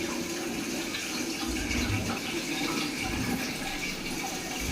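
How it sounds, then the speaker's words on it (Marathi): Tap water gushing steadily into a bathroom storage tank, a constant dense splashing rush with no pauses. "आता ते बाथरूमची पण टाकी भरत आली आहे"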